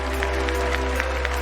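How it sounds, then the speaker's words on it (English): Audience at the TwitchCon 2019 cosplay contest claps briefly in a large hall, a steady patter with a few sharper bursts over a constant low electrical hum. "Please give them a huge round of applause."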